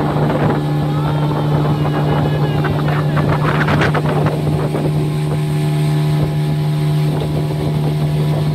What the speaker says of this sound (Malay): kami semua naik bot pusing-pusing Tasik